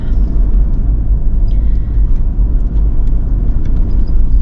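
Car driving along Eaglevale Track, a forest road in Hibernia State Forest near Dargo, Victoria, heard from inside as a steady, loud low engine and road rumble with no break and no voices.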